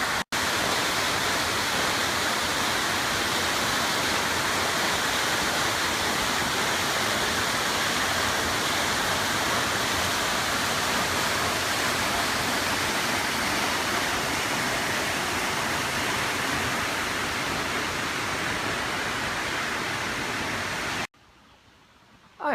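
Munising Falls at Pictured Rocks National Lakeshore, Michigan, pours in a steady, loud, close roar of falling water, a constant broadband rush with no talk, cutting off abruptly near the end.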